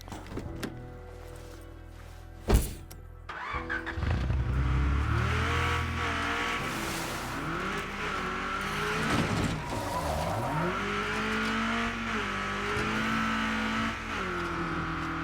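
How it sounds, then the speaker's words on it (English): Sports car in the zombie survival game State of Decay 2, its engine revving hard with rising and falling pitch sweeps and tires skidding, loud and continuous after a sharp thump near the start. "We try the sport car."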